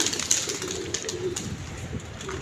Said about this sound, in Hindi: ये कबूतर किसी का बैठ रहा है जनाब